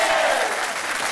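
A television studio audience applauds loudly and steadily, a dense close wash of clapping that fills the whole brief moment.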